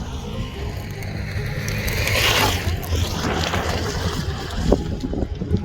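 Strong wind roars steadily and loudly across the microphone in the cold, snowy high desert of Spiti Valley, a constant rumbling buffet that swells midway, with no voices.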